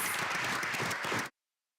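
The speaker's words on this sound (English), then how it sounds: "Let's give all of them a big round of applause." An audience at a school board meeting gives a brisk round of applause, dense steady clapping at moderate distance that cuts off abruptly after just over a second.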